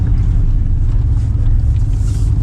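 An old high-mileage car engine runs at a steady idle, with a loud, continuous low rumble close by and no talking.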